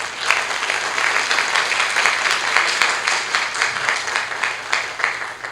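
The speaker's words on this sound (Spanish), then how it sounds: "Unas fuertes palmas, por favor." A crowd at a criminal procedural law seminar applauds steadily during a certificate presentation, dense clapping filling the whole stretch at a loud, even level with small swells.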